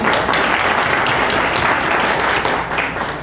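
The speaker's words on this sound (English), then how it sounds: "A round of applause for Mr. Takar." An audience at a Diwali gala in New York applauds, a dense wash of many hands clapping steadily at moderate loudness, fading slightly near the end.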